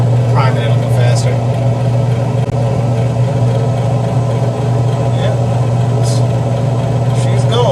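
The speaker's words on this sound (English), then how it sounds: "Auger is turning." A Pit Boss pellet grill runs its auger and fan together, making a steady low motor drone that holds without a break, with voices faintly nearby.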